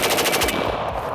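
A VZ-61 Skorpion submachine gun fires a rapid, loud burst of about eight shots in half a second, then the echo rings out and fades.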